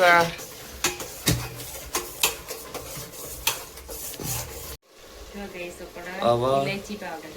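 A spoon rasps and scrapes through carrot halwa in a pan with repeated rubbing strokes up close, while a voice keeps talking over and after the stirring.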